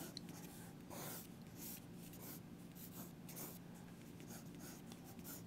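A pencil sketches rapidly across paper, giving soft, close scratchy strokes in quick repeated sweeps over a faint steady hiss.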